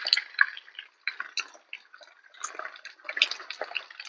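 Rain drips in uneven, scattered drops during a rainstorm in a village setting, close and irregular with brief quiet gaps and no talk.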